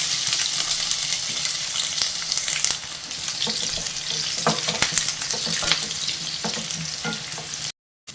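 Crushed garlic and curry leaves fry in hot oil for a banana stem pickle, giving a loud, continuous crackling sizzle broken by stirring scrapes, with a brief dropout near the end.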